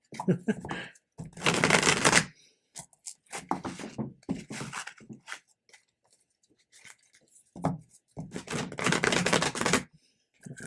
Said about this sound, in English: I'm going to shuffle on this so I don't move things around too much.